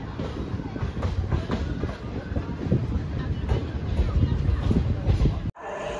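The 13114 Down Hazarduari Express at Krishnanagar Junction makes a continuous loud rumble with rhythmic wheel clatter and faint background voices, then cuts off abruptly near the end.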